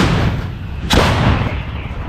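A Ukrainian Bohdana self-propelled howitzer fires a single shot: one sharp, loud boom near the middle, set against steady outdoor rumble with no talk.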